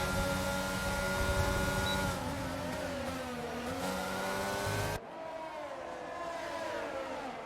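Formula 1 race cars in a racing video game scream down the straight side by side toward the first corner, a loud sustained high-pitched engine whine that shifts in pitch and drops in level partway through.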